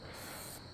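An aerosol spray can applies Plasti Dip to a chrome bumper ring, a short, faint, even hiss lasting under a second.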